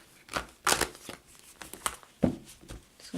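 Cards riffle and snap in quick, uneven bursts close by, with soft rustling between them.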